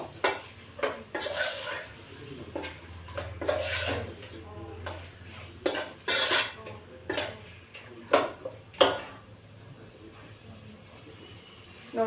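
A utensil mixing chicken curry in a pan of hot oil, scraping and tapping against the metal in short irregular strokes, close and fairly quiet, with occasional faint speech.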